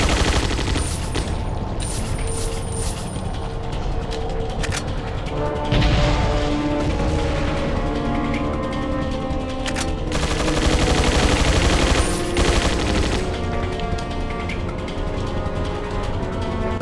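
A Gatling gun in Resident Evil 4 (2005) keeps up a relentless, loud stream of rapid-fire shots for the whole stretch, with heavy impacts and crashes mixed into the barrage.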